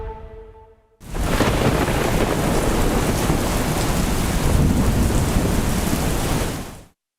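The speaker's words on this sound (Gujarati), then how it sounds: "ગુજરાતમાં ચારેકોર વરસાદ વરસી રહ્યો છે" Heavy monsoon rain in Gujarat pours down in a dense, continuous roar with deep thunderous rumbling underneath, starting abruptly and cutting off just as suddenly.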